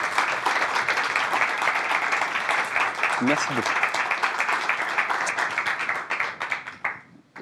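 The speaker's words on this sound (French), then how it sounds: "On peut les applaudir bien fort, s'il vous plaît." A studio audience applauds in a dense, loud, steady round of clapping that tapers off at the end, while a voice speaks briefly over it.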